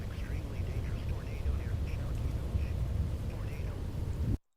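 Heavy rain falls in the Roblox storm-chasing game Twisted as a steady, dense wash of noise, with faint voice-like sounds over it before it cuts off abruptly at the end.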